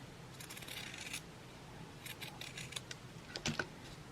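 Scissors make scalloped cuts along the edge of fabric for a small fabric flower: quiet, close crisp snips in short clustered bursts separated by brief pauses.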